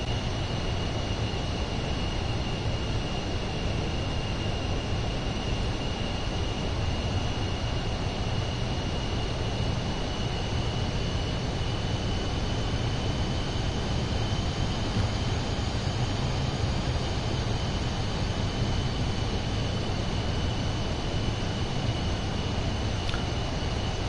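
A light aircraft drones steadily in cruise flight over the Swiss mountains near St. Moritz in Microsoft Flight Simulator 2024, a constant broadband engine and wind roar with a faint whine, unchanging and alone.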